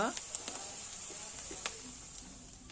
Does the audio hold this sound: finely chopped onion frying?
yes